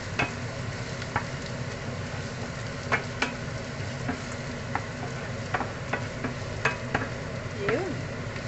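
Garlic frying in a hot pan for an eggplant dish, giving a continuous crackling sizzle with repeated stirring clicks and scrapes, close up and moderately loud, with no one talking.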